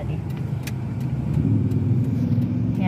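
A car drives past on a town road in Santa Rosa, Laguna in the Philippines, its engine rumble swelling steadily and staying close, with faint clicks and ticks over the top and no talking.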